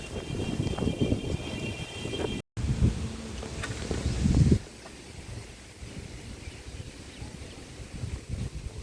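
Strong wind ahead of a Kalbaishakhi storm in Bengal, heard as a steady outdoor rush with louder buffeting in the first half that drops to a softer, even whoosh.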